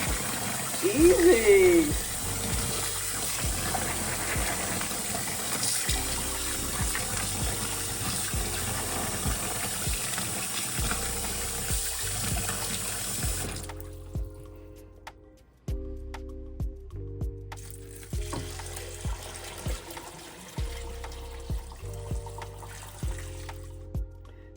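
Tap water runs steadily while peeled beans for moi moi and akara are rinsed, with clattering handling sounds throughout, a brief pause, then the flow resumes; a voice speaks briefly near the start.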